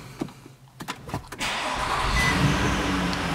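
A 2011 Nissan Murano CrossCabriolet with a 3.5-liter V6 starts by one-touch button: a few clicks and a brief crank, then the engine catches and settles into a steady idle, heard up close from inside.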